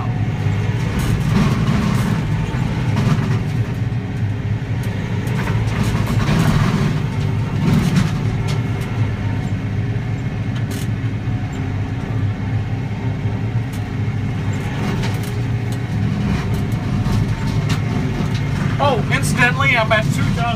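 A Kioti NX6010 tractor running near 2,000 RPM drives a Woods BB720X rotary cutter through brush, giving a loud, continuous low engine rumble and churning roar with occasional crackling from the cut material.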